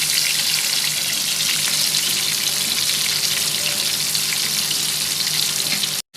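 Chapli kebabs fry in oil, a steady, loud, dense crackle and sizzle running unbroken before stopping abruptly at the end.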